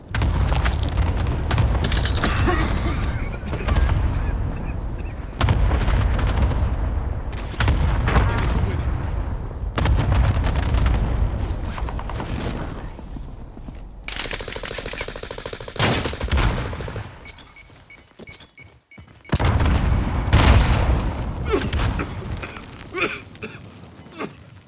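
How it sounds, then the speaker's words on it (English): Heavy booms and rapid gunfire from a Call of Duty Warzone match on the Caldera map, with repeated loud blasts and bursts that come in clusters, then a brief lull before another strong burst near the end. "Need an airstrike on my position now."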